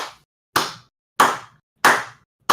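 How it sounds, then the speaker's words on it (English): Four sharp hand claps ring out one by one at a slow, deliberate pace, roughly half a second apart, each crisp and close with a short decay. Nothing else sounds between them. "You hear clapping,"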